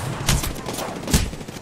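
Gunfire in the shooter game Apex Legends: two sharp, loud bursts of rapid shots close by, with a lower rumble of game noise between them.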